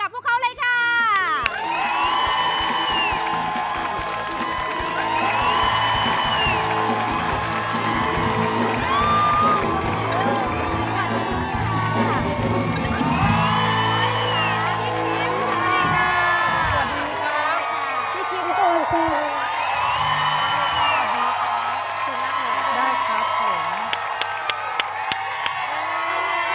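A loud studio crowd at a Thai TV talk show screams and cheers continuously, with whoops, high-pitched shrieks and scattered clapping; voices shout over the roar.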